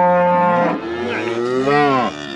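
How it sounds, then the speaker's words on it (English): A cow moos loudly and close by on a farm among calves, giving two long, drawn-out bellowing calls with no talk. "Don't mess with the cows."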